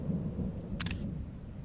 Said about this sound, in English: I wanted more lightning strikes